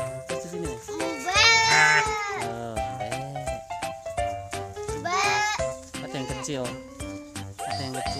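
Goats bleat repeatedly in drawn-out wavering cries at close range, overlapping one another, with a voice mixed in among the animals.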